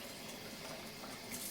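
Water poured from a container into wall filler powder for mixing, a brief, faint steady trickle of liquid.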